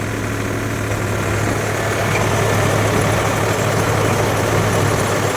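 Steady, loud drone of a Sonalika RX47 4WD tractor engine running a rotavator in a field, a constant low rumble with mechanical vibration and no breaks.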